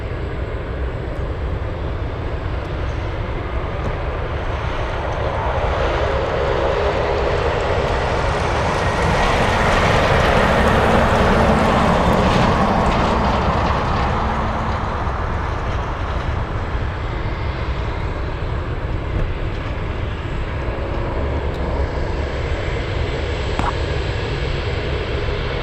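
A Boeing 777 takes off from runway 7 left at Anchorage, a broad jet roar swelling to a peak near the middle and easing away again, steady and loud throughout with no talk.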